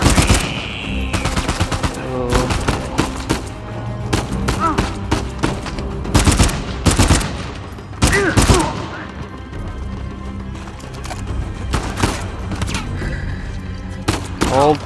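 Heavy, sustained automatic gunfire from the video game Uncharted 4 crackles nearly nonstop, with sharp close shots and booming impacts layered over one another, and talk or game voices partly mixed beneath the firefight.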